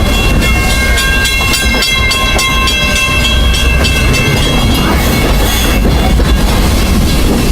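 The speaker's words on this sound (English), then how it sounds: "As for me, I'll stay safe and sound right here aboard my train" Walt Disney World Railroad train riding along its track in the Magic Kingdom, a steady loud rumble of wheels and rail noise with rhythmic clatter, heard up close from aboard with no talking.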